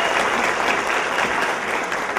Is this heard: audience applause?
yes